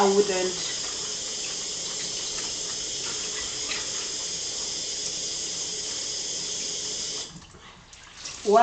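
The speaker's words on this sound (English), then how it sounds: "let me wash my hands" Hands are washed under a running tap, a steady close stream of water that stops near the end, with a voice speaking at the start and the finish.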